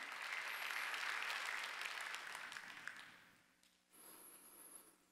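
A Korean church congregation claps during a Sunday worship service, a loud crowded burst of many hands that swells, then fades out over a few seconds before a quieter hum returns.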